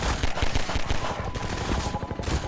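Gunfire in the video game Half-Life 2 comes as a string of sharp, rapid shots, like automatic-weapon bursts, fairly loud and close and repeating steadily throughout.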